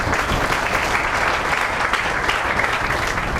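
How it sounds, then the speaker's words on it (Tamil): A crowd at a memorial gathering claps together in steady, dense applause throughout the short stretch. "மழைக்கு ஒரு கைத்தட்டல் கொடுக்கும்"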